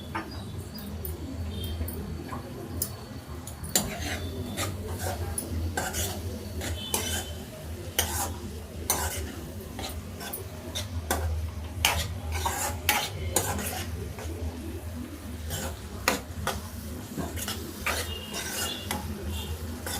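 Okra, egg and onion curry being stirred in a pan with curry leaves, a spoon scraping and clinking against the metal in steady repeated strokes over a low sizzle, close and moderately loud with no talking.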